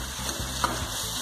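Cucumber, tomatoes and green chillies cooking in a pan for kakdi sabzi, stirred together with a steady soft sizzle and a brief scrape of mixing, close and continuous with no voices.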